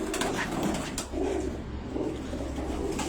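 Pigeons from a record-holding flying line coo in a loft in Karachi, giving overlapping low throaty coos that run steadily throughout, close and fairly loud, with no talking.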